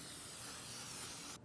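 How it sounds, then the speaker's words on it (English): A short, steady hiss of cooking spray lasting just over a second, close and even, then cutting off abruptly. "we'll give it 1 more spray over the top."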